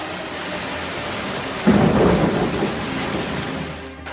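Steady rain falls on the African savanna, and a deep thunderclap breaks in partway through, then rolls and rumbles slowly away beneath the continuing downpour.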